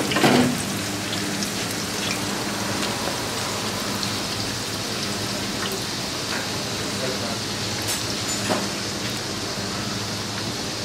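Shrimp frying in a pan give off a steady, loud hissing sizzle with scattered crackles and pops, unbroken from start to finish.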